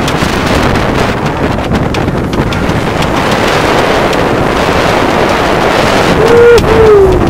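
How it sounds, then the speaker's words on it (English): On a sailboat, water splashes and rushes around the stern under constant heavy wind buffeting on the microphone, loud and close, with a brief surge near the end. "We're getting splashed way back here today."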